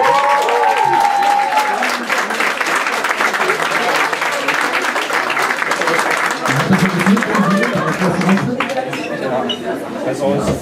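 Loud, sustained audience clapping and cheering for a school band at a gymnasium band marathon, with crowd chatter and a few voices mixed in, thinning toward the end.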